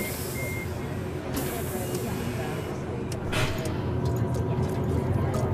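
A large bus driving in the Bus Bound video game, a steady low engine drone with repeated reversing-style beeps and mechanical hiss, people talking over it.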